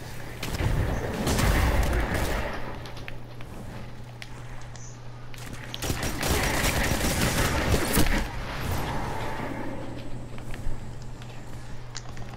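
Gunfire in the shooter Destiny 2, with repeated bursts of shots and heavy booms, loud and dense in clusters near the start and again in the middle, among quieter stretches of scattered shots.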